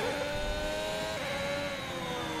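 A Formula 1 car in F1 2021 held against the rev limiter with a cold engine, a steady high-pitched engine whine that stutters slightly at the limiter, sustained and fairly loud for a couple of seconds.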